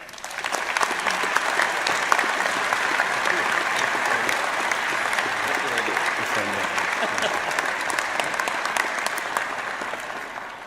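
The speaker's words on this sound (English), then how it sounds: "Please give him a round of applause" Sustained applause from a large crowd at a university graduation ceremony greets an honorary degree recipient, a dense, even wash of clapping that holds steady from start to finish.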